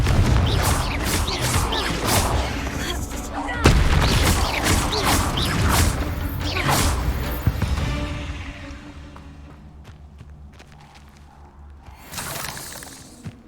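Confringo fire spell blasts in Hogwarts Legacy: a loud burst of explosive crashes and shattering impacts with mechanical clatter for several seconds, fading into a quieter rumbling tail before another short flare of noise near the end.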